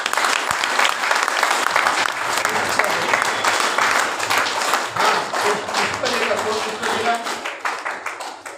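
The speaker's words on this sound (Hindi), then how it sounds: "इनका स्वागत करिए जोरदार तालियों के साथ" An audience at a Buddhist Dharma talk breaks into strong, sustained applause, close and dense, with a voice briefly audible beneath it.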